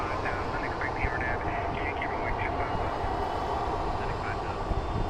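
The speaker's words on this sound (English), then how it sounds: "This departure is Southwest Airlines 737-7H4, 17 years old, built in 2005." A 2005-built Southwest Airlines Boeing 737-7H4 departing Phoenix Sky Harbor International Airport, a broad steady jet engine roar heard from a distance, with a voice talking over it throughout.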